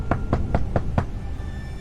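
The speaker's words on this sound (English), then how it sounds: "there was a knock at the door." Five evenly spaced knocks on a cabin door, quiet and measured, then a short stillness after the last one.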